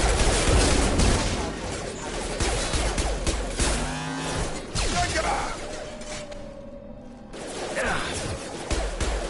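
Video game gunfire rattles in a steady fusillade of shots mixed with crashes and whooshing effects, while game voices talk over the battle noise.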